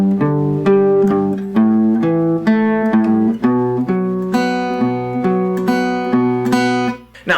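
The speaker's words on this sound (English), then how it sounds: "So that last measure going back into the riff again would sound like this." Guitar playing the closing measure of the riff, an early demo in a sad version: loud, close strummed and picked chords with bright ringing harmonics moving through the changes in a steady rhythm.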